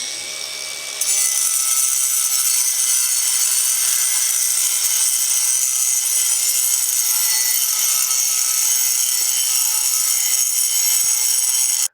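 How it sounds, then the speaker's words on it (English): An angle grinder fitted with a steel masonry disc grinds along a crack in concrete, widening it into a U-shaped groove; a loud, steady high-pitched whine runs unbroken for most of the stretch, with no talking. "For grinding this crack, I'm using a regular grinder with a regular masonry steel disc"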